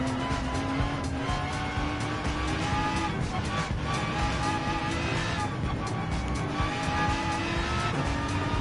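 BMW M6 GT3 race cars in Gran Turismo 7 rev hard in a continuous high engine whine with shifting pitch and tire noise, loud and unbroken.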